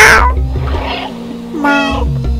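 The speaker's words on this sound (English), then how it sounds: "Guess maybe because I'm meowing." A cat meows in the video game Stray, with clear close game meows, one drawn-out and rising, over a low background game hum.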